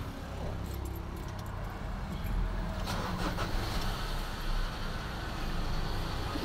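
A 2015 Ford Ranger truck engine is started up and idles with a rumbling drone, close by outdoors. Its air-conditioning compressor has a burnt magnetic clutch. A few brief clanks and rattles occur near the middle.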